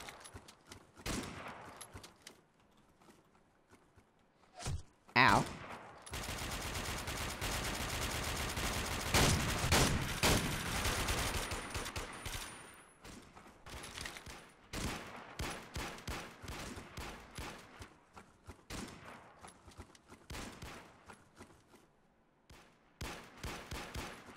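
Shotgun fire and other gunfire in the online shooter game Warmode, scattered sharp blasts followed by a dense, sustained burst of rapid shooting, then sporadic shots trailing off.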